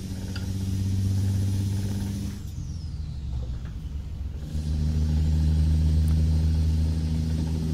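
A truck's Cat 3406E engine in the American Truck Simulator game hums steadily at cruising speed, dipping briefly midway before the low drone swells back, with no voices over it.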